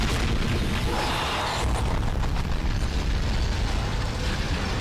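Loud, dense explosions and bursts of gunfire from a battle scene in an anime episode, a continuous barrage of booms and blasts with no pause.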